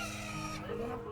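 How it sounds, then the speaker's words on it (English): Chickens cluck and crow at a farm in Dubai, a dense, busy flock sound heard close and loud throughout. "More chickens, ducks over there."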